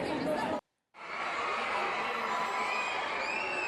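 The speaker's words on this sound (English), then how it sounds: "Listen to the crowd go nuts all of a sudden." A large studio audience at a talent show erupts into screaming and cheering, a dense roar of voices after a brief cut to silence, continuing loud and sustained.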